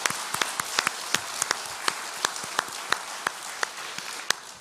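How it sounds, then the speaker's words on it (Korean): A church congregation gives a round of applause: scattered, fairly close claps arrive in a loose, uneven rhythm, thin rather than a full roar, with no talk over them. "우리 모두 지난 한 해 우리 스스로를 격려하며 힘찬 박수로 하나님께 영광을 돌리고자 합니다."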